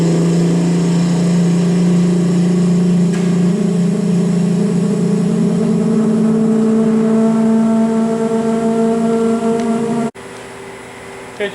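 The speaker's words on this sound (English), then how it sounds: "You hear the scroll pump's a little noisy to start" A scroll pump on a March Instruments PX-500 plasma etcher starting up, a loud steady mechanical drone with a strong low hum and rising whine for about ten seconds before dropping off abruptly, close and continuous.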